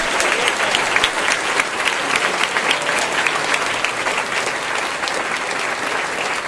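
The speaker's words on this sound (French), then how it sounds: "Donnons-lui un fort applaudissement, mes frères et sœurs" An audience at a church gathering in San Sebastián de los Reyes applauds in loud, dense, continuous clapping that stays steady for the whole stretch, with no talking over it.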